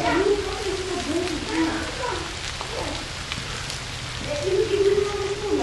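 Steady rain falls outdoors at a woodland camp with natural shelter, a broad even patter filling the background throughout while faint voices come and go.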